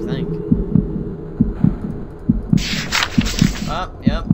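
A heartbeat effect from the horror video game The House 2 thumps in a steady doubled rhythm, loud and near, with someone talking over it and a brief burst of game noise partway through.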